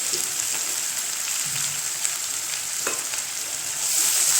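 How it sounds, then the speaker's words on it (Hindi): Two large onions sizzle in hot oil with whole spices for a potato-and-mutton curry, a steady close hiss and crackle with faint stirring clinks and no talk. "प्याज डाल के फ्राई कर देंगे"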